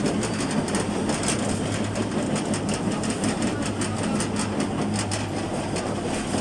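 Inside a moving city tram, route 22, a continuous loud rumble and rattle of wheels and car body persists throughout with no talking.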